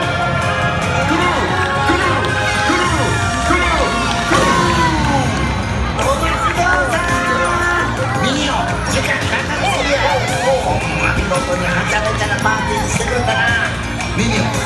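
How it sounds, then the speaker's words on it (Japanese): Crowd at a Universal Studios Japan Minion Christmas party show clapping and shouting "Gru" together, a loud, dense mix of cheering, children's shouts and rhythmic clapping that carries on without pause. "みんな一緒に手拍子して大きな声でグルーと叫ぼう"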